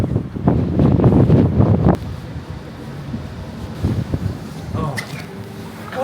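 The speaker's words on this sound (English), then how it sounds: "God, it's windy!" Strong wind buffets the microphone on the Liverpool waterfront, heavy gusty rumble loudest in the first two seconds, then lighter blustering as a person speaks briefly.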